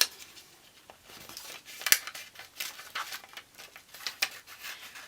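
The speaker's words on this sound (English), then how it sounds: "with our scissors we're going to go ahead and cut this out" Scissors snip through paper in a series of crisp, close cuts with soft rustling between them, irregularly spaced.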